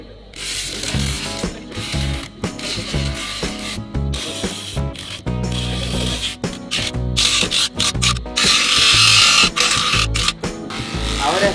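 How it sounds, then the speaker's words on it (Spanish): A shofar horn is sanded with finer sandpaper for a smoother finish, giving loud, busy rasping and scraping strokes in irregular bursts with brief pauses, sounding alone. "lo está lijando un poquito, una lija más fina, para hacer una terminación más perfecta."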